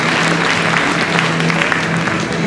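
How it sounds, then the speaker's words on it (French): Dense, steady applause from an audience at an award ceremony for the Lido de Paris Trophy at the Longines Masters Paris 2016, loud and continuous with no pauses. "vous pouvez une nouvelle fois applaudir"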